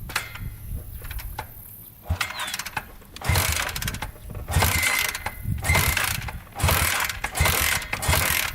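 Honda trike engine with leaking carburetors being cranked repeatedly without catching, bursts of mechanical churning and whirring separated by brief pauses, close and loud, no voices.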